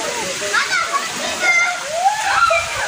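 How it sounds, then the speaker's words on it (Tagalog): River water rushes and splashes steadily at Lumbangan in Tuy, Batangas, a continuous close wash, with children's voices and chatter over it. "Ang ganda po ng ilog dito sa may Lumbangan, Tuwi, Batangas."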